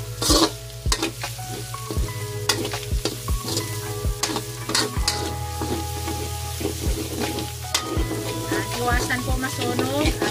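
Garlic and onions sautéing in a pan for carbonara: a steady, close sizzle runs throughout, punctuated by regular clacks of a spatula stirring against the pan.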